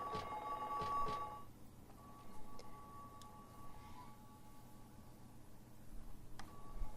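A telephone rings in the video game Silent Hill 3, with a steady electronic ringing tone repeating over a low, murky ambient drone and scattered faint clicks, and no talking.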